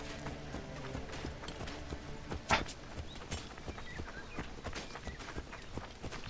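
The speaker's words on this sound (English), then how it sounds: "Oh my god, what a shitty horse." A horse gallops in Assassin's Creed Origins, steady rapid hoofbeats drumming close by under a muffled game soundscape, with one sharper impact partway through.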